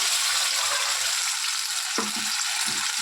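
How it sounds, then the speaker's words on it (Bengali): Poppy seed paste sizzles and fries in hot oil for a stuffed okra dish, a steady, dense crackle with a few soft stirring scrapes near the end and no talking. "যে পোস্তটা বেটেছি এই পোস্তটাই দেখো, পোস্তটা আমি পুরো তেলের মধ্যে দিয়ে দিলাম"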